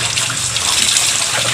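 Water from a tap runs steadily into a sink, a loud, close, continuous splashing rush with no pauses and no voices.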